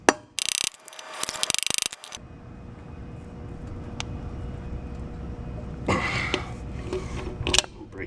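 Socket wrench breaking loose a lug nut on the wheel of a 1967 Jeep CJ5, heard as sharp metallic ratcheting and clanking bursts near the start and again toward the end, with a steady hum between.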